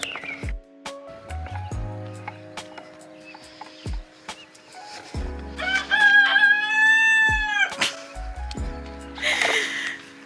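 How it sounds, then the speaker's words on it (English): A rooster crows nearby, a long rising and falling call in the middle, surrounded by scattered clucks and hen chatter. "He cock-a-doodle-doos."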